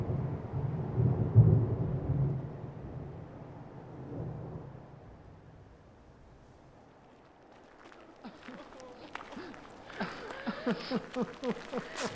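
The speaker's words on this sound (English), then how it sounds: "crouched down, waiting for the storm to arrive" Rumbling thunder rolls through a storm in an audio drama, a heavy low roar swelling early and then fading, followed by scattered rain and brief higher crackles near the end.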